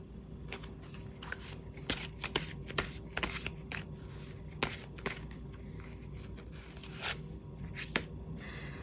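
Tarot cards are shuffled by hand in a series of quick, crisp riffling and slapping bursts at close range over a faint steady background hiss, with no talk.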